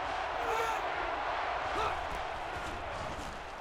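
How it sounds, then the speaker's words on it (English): A stadium crowd roars in NCAA Football 13 during a USC vs Oregon game, a broad, steady wash of noise with faint thuds that eases slightly toward the end. "The crowd is really letting them hear it."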